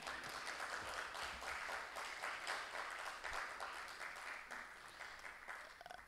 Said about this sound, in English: You wanted to clap? Go ahead.